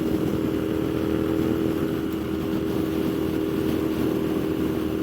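A 2015 Moto Guzzi V7 mk2 750cc motorcycle cruising in sixth gear on a road, its V-twin engine throbbing as a loud, steady drone mixed with wind rush, close and continuous.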